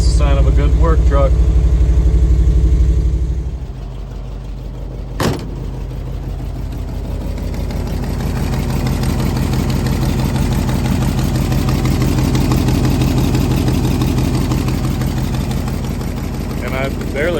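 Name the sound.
dump truck engine idling after cold start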